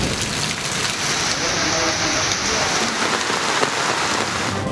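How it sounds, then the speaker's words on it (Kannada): Heavy, steady rain pours down during a widespread downpour, a dense continuous hiss of drops pounding surfaces, loud and unbroken throughout with no voices. "ರಾಜ್ಯದ ಹಲವೆಡೆ ಎಡಬಿಡದೆ ಸುರಿಯುತ್ತಿರುವ ಮಳೆ ಅವಾಂತರಗಳ ಸರಮಾಲೆಯನ್ನೇ ಸೃಷ್ಟಿಸಿದೆ."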